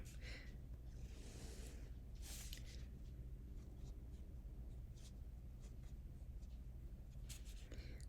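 Pencil scratching on watercolor card while drawing a bird's legs, a quiet, intermittent scribbling with soft bursts of strokes over a low room hum.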